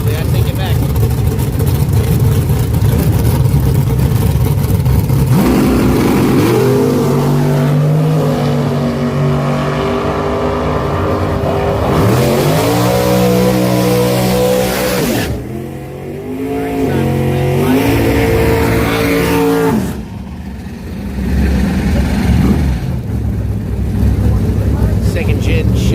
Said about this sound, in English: Second gen Chevrolet Camaro on the right side. And a second gen S10 in the left side, extended cab.